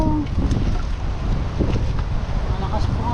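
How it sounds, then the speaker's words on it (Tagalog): Strong wind blows outdoors on a rocky seashore, a loud constant roar with gusty buffeting across the microphone throughout, and a voice briefly audible beneath it. "Malakas po ang hangin."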